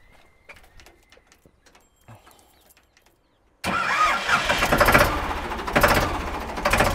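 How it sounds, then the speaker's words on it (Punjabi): After a few seconds of near silence with small clicks, a Ford 3600 tractor engine cranks and catches, then runs with a loud, rough, throbbing chug close by, at a tractor restoration shop. "ਤੇ ਆ ਫੋਰਡ 3600 ਹੈਗਾ ਬਾਈ ਇਹਦੀ ਆਵਾਜ਼ ਸੁਣ ਲਓ ਤੁਸੀਂ"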